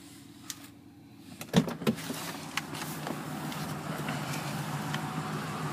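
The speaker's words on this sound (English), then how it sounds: "Power folding mirrors" Power folding side mirrors on a 2015 Ram 1500 Sport, a faint motor whir after a couple of sharp clicks, humming steadily in a quiet cab.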